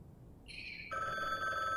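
A telephone rings in the video game The Bookwalker: Thief of Tales. A bright electronic bell tone starts after a brief quiet moment and then shifts to a fuller, sustained ring.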